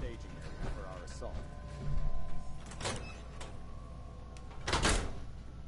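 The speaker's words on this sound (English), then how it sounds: "I opened the door." A door opening in Fallout 4 at an airport ruin, sliding mechanical whooshes and clunks that come in a few distinct bursts over a low steady hum, with quiet game sounds around them.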